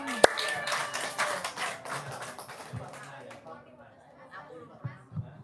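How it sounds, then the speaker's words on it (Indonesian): An audience claps in a quick burst that quickly fades into scattered claps, with chatter and talking carrying on beneath and after it. "Tepuk tangan dong."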